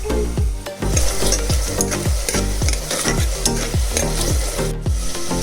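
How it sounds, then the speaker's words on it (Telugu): Chopped tomatoes being stirred in a hot pan for a black-eyed pea curry, with a steady run of rhythmic scraping strokes over a continuous close sizzle. "టమాటాలు వేసుకొని టమాటా వేసుకున్న తర్వాత మూత పెట్టి ఒక 5 నిమిషాలు సిమ్లో మగ్గించుకుందాం."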